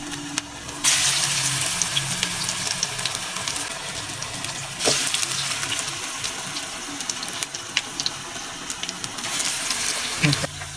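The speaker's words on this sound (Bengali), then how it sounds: "আমাদের পেঁয়াজি ভেজে নেওয়া হয়ে গিয়েছে" Onion fritters (piyaji) deep-frying in oil, a loud continuous hissing sizzle that swells when more batter goes in, with occasional clinks close by.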